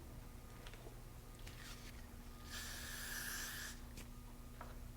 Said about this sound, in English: Lots of spray, lots of hairspray.